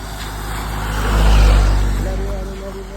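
A lorry passes on a roadside near Nandi Hills, its engine rumble swelling to a peak midway and fading, with a rising tonal whine near the end and someone talking over it.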